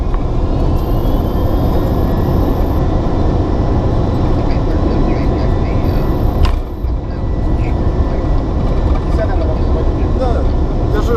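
An Airbus A300B4 rolls out after a night landing with reverse thrust engaged, a loud, steady roar of engines heard from inside the cockpit, with a brief dip partway through.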